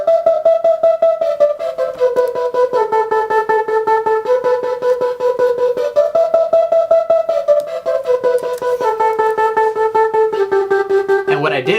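A flute plays a steady stream of short, detached eighth notes, the pitch stepping up and down in a repeating pattern over a pulsing beat.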